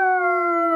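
A person imitates a coyote with a sustained, steady vocal howl, a clear tonal wail held loud and close for under a second before cutting off.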